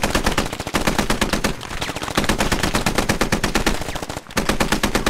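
Sustained automatic gunfire in the military shooter Squad hammers loudly at close range in fast bursts, broken only by two short pauses.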